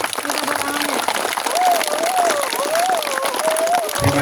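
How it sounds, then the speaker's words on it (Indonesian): A crowd at a school flag-raising ceremony applauds the ceremony officers with a steady wash of clapping, while a voice talks over it throughout. "saya boleh minta tepuk tangan buat seluruh petugas upacara"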